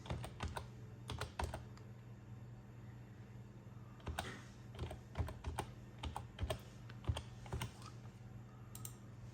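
Keys clack steadily on a computer keyboard as a CNIC number is typed into the Federal Board of Revenue website, quick irregular bursts of close, crisp clicks over a low hum.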